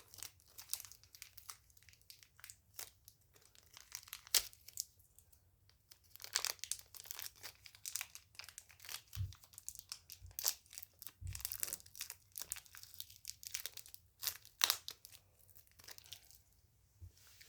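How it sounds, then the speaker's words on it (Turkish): Scissors cut open the plastic packaging of a set of star-shaped hair clips, giving repeated sharp snips and crinkles that sound close and fairly quiet, with no talking. "Makası şöyle keselim."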